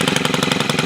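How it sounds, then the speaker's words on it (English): A cold-started Stihl FS130R four-stroke string trimmer engine running on a 50-to-1 oil mix, a steady rapid pulsing chug held close and loud, with no talk over it. "It's a 4-stroke motor, but it runs on a 50-to-1 oil mix"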